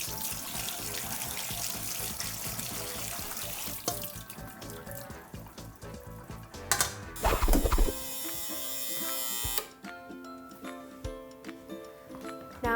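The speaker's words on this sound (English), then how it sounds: "I'm gonna pour it into a colander and immediately turn on the cold water to stop the cooking process." Cold tap water runs steadily over blanched peas in a metal colander, a close, full rushing spray with clattering and splashing, briefly louder midway before settling into a lighter trickle.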